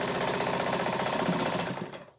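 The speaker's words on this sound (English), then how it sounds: "Then I sew on my sewing allowance, which is 1/4 of an inch." A sewing machine stitches a quarter-inch seam allowance with a fast, even mechanical whirr that runs steadily and then winds down and stops at the end.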